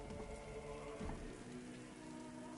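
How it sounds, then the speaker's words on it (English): Rain falls steadily in a Batman video game set in the ruins of Arkham City, a faint, even patter of drops on hard surfaces with a slightly louder splash near the end. "What's with all the rain?"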